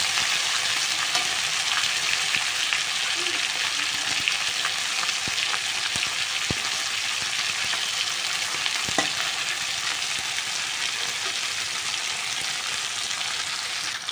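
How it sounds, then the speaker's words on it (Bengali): Fish pieces frying in hot oil in a pan give a steady, close sizzle with a few faint clicks and stirs, no voices. "দিয়ে দিচ্ছি 6টা পিস, ভালো করে লাল লাল করে ভেজে নেব।"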